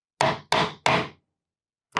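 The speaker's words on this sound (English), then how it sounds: "give a tap right over my handle to make sure that that's fully set" Three sharp hammer taps on the wooden handle of a DIY toolbox being set into glued joints, evenly spaced and close, followed by silence and a brief final knock.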